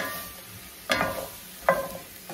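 Onions and mushrooms cook in a pan with a soft, low sizzle, broken by two or three sharp clatters of a utensil stirring against the pan.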